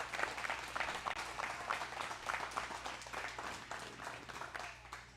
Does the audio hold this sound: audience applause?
yes